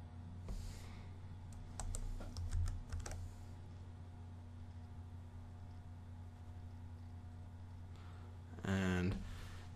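Bursts of quick keyboard typing, a short flurry of keystrokes then a pause and another brief burst, over a steady low hum.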